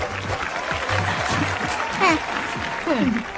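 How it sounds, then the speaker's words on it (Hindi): A crowd in a film scene claps in a steady wash of applause while voices and tonal sounds rise over it. "तालियां बजाओ।"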